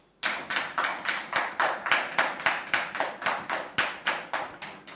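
An audience applauds to welcome a guest, giving a steady run of loud, evenly spaced claps close to the listener.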